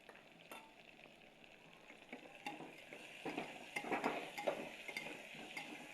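Onions with a pinch of salt frying in a pan for khichdi, a steady crackling sizzle with occasional clinks and scraping as they are stirred, growing busier toward the end, with no talking.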